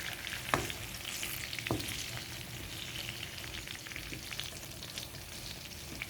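Chicken longganisa fries in its own rendered fat in a pan, giving a steady close sizzle throughout, with a couple of sharp pops or stirring scrapes early on. No one speaks.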